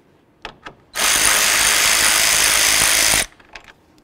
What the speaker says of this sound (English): Remove this bolt.